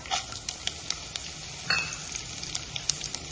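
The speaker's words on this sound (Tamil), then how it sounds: "கடுகு பொரிஞ்சோடனே நம்ம கடலைப்பருப்பு சேர்த்துடலாம்." Mustard seeds and chana dal sizzle in hot oil for a coconut rice tempering, a soft steady crackle with small pops and a few faint utensil clinks, close and with no voices.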